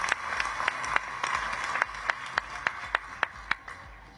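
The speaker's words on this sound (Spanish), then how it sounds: "Un aplauso fuerte para ellos" An audience at a bilateral ceasefire announcement claps together in rhythmic unison, a steady beat of sharp, evenly spaced claps over a broad crowd wash, moderately loud and fairly close, with no one talking.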